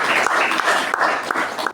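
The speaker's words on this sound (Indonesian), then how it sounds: "berikan aplaus untuk kelompok 1" A class of students applauding group 1, with dense continuous clapping from many hands, close and fairly loud for a short burst.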